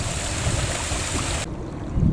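Continuous rushing of a mountain stream flowing over a sandstone shelf in Fforest Fawr, a steady broadband wash with wind buffeting, cutting off abruptly partway through.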